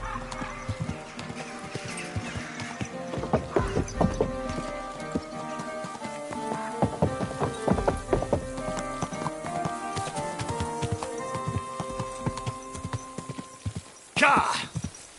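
In the video game Kingdom Come: Deliverance II, horse hooves clip-clop in an uneven rhythm, with a horse whinnying and snorting, and a sharp burst near the end.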